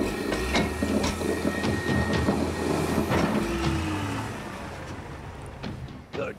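A 460 excavator with a faulty swing transmission on the fuel tank side swings at a gold mining site. A steady low engine drone carries grinding clanks and gliding squeal-like tones, loud and continuous, with no talk.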